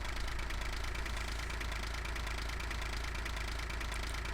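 A tractor engine idles in the video game Farming Simulator 15, a steady, close, rumbling drone with an even knocking texture throughout and no voices.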